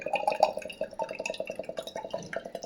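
Water from a green coconut bought for 80 taka pours out in a quick, close, rhythmic trickle of splashes and drips, with no talking over it.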